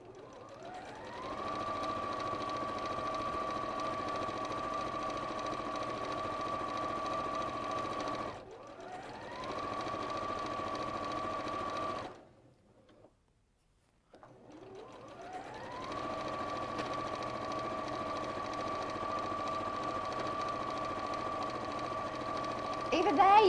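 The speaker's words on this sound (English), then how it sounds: "We're going 1/4 inch seam all the way down." A sewing machine stitches a quarter-inch quilt seam in long steady runs, a constant mechanical hum that stops twice, briefly pausing near the middle, then starts up again.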